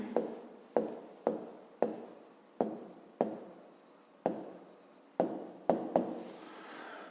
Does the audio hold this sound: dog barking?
no